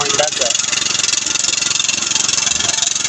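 Honda farm tractor engine running steadily at close range, a continuous mid-pitched drone throughout, with a voice talking over it.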